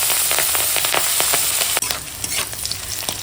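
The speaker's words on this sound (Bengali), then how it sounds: "এখন পেঁয়াজ কাঁচা লঙ্কাটা তেলের ওপর দিয়ে দেবো দিয়ে একটু ভেজে নেবো" Onion and green chilli fry in hot oil with a steady close sizzle and crackle, stirred with repeated scraping clicks throughout and a brief sharp knock partway through.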